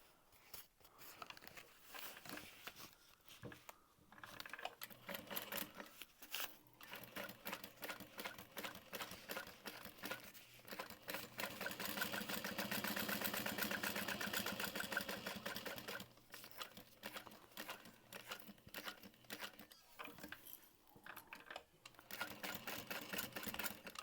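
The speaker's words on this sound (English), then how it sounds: "we're going to top stitch it from the correct direction" A sewing machine top stitches a quilted crossbody bag in close, rapid mechanical chatter, running in bursts separated by brief pauses, with one longer steady smooth run in the middle.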